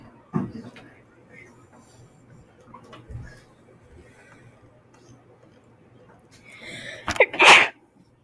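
A single sharp sneeze bursts out near the end of a quiet room, after a soft bump and faint background murmurs.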